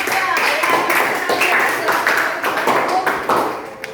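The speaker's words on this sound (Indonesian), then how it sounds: "Kita beri tepuk tangan dulu untuk kelompok 2." A classroom of students claps for group 2 after their presentation, a lively burst of many hands with distinct individual claps audible, close and bright, tapering toward the end.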